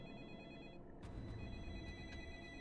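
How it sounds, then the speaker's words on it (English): A telephone rings in Deadly Premonition, a faint repeated bell-like tone sitting low under a steady bed of ambient game noise, with short bright pulses recurring across the stretch. "The phone."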